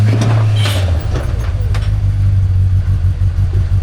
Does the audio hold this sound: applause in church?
no